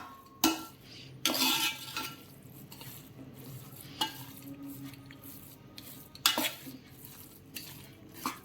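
A spoon stirs carrot halwa with khoya and chopped dry fruits in ghee in a pan, making intermittent scraping strokes and metallic clinks over a faint sizzle, with no talk.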